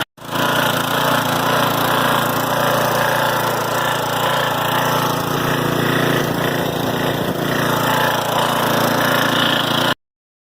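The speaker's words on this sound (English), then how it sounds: "So it seems to be running alright, pumping a bit" A Kärcher pressure washer, a barn find, runs loud and steady on a cold start. Its small engine drones and pumps continuously for about ten seconds before cutting off abruptly.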